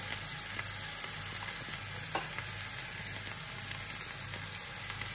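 Salt, Kashmiri chili powder and turmeric fry in a pan with a constant close hiss, while a spoon stirs and scrapes in small irregular clicks.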